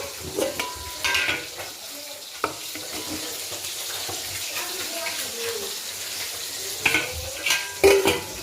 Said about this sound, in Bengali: আর এর মধ্যে এখন একটা মাছ ভাজা রাখবো।